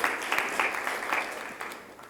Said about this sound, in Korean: 자, 많은 박수 맞이해 주시기 바랍니다.